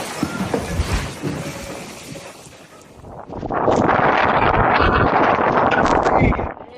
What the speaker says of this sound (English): A thunderstorm with wind gusts up to 60 miles per hour blew many objects around